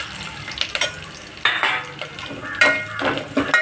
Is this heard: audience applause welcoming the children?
no